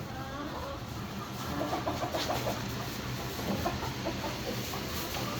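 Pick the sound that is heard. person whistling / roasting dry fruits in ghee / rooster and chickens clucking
rooster and chickens clucking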